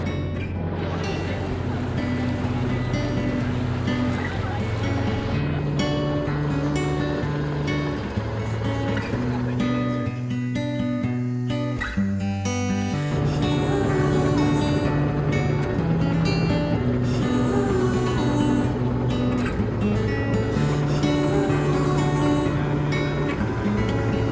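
A boat drones along on a river safari in Khao Sok, its engine a steady, loud hum running throughout, with a brief dip in the middle before the motor picks back up.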